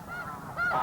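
A goose honks up close in Arctic tundra on Wrangel Island, a short, clear nasal call standing alone against a faint background.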